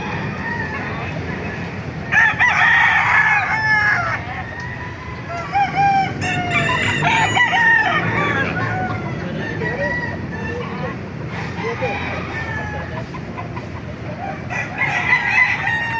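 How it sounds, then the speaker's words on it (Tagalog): Several roosters crow loudly and close by at a market in Baliuag, calls overlapping with clucking hens and other poultry over a busy background. "Maraming manok dito sa Baliwag yan."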